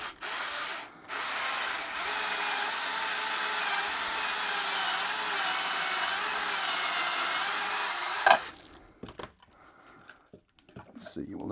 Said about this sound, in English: we will use the step drill bit to widen that up to at least 16 millimeters